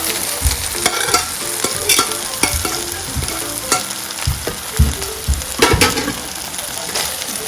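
Cabbage (purple and green), green and red peppers and carrot are tossed in a hot pan for chicken chow mein, giving a loud, continuous sizzle broken by repeated clattering stirs and scrapes.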